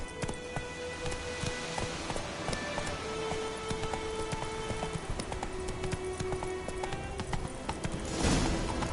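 Horse hooves clip-clopping at a steady trot or gallop in The Witcher 3, a rhythmic patter under a rain-like background hiss, with a louder rush near the end.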